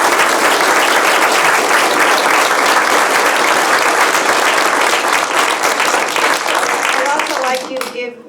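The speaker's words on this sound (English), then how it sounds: "So please join me in a round of applause for all of them." Audience applause for the candidates at a chamber of commerce candidate forum, loud sustained clapping from a full room that holds steady for about seven seconds before tapering off, with a voice at the close.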